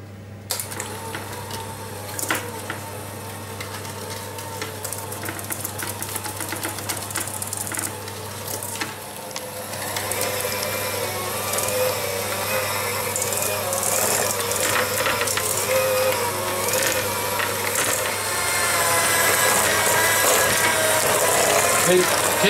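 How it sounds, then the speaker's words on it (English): Electric mixer whisking whoopie pie sponge batter in a bowl, a continuous whirring, rattling drone that grows louder and busier partway through and keeps going for the whole stretch. "we're using an electric mixer, we're going to whisk all this together"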